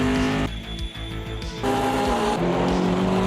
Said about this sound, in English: That's what a McLaren sounds like.